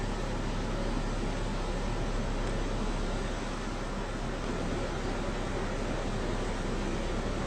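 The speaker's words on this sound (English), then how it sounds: "Look how fast that water is moving." Fast-moving brown floodwater rushes downstream as a steady, loud, broadband roar with no breaks, close by and unaccompanied by voices.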